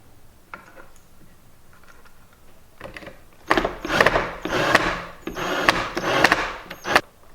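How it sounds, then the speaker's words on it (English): A flat-head screw about half an inch long is driven through a metal flag bracket into wood: a few quiet scrapes at first, then a louder run of gritty, ratcheting turns in bursts, close up with no talk. "take about a 1/2 inch long screw with a flat head and attach the bracket to the back"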